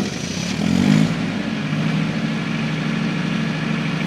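A generator engine under an AC03 controller is cranked and catches, giving a brief louder starting surge before settling into a steady, close, rumbling idle.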